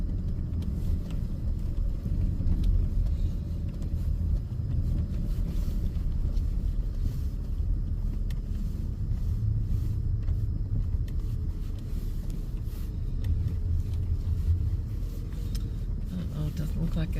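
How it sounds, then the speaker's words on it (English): Car driving home through deep snow in a spring blizzard, a constant low rumble of engine and tyres with occasional wind buffeting, and a person talking over it. "thought I would just share the exciting"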